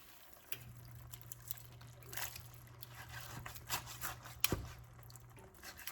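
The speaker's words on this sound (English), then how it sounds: "I put some water in here to get the extra bits from the can" Water pours into a pot holding canned Italian-style diced tomatoes for a beefy burrito filling, a soft steady trickle of a few seconds with light clinks.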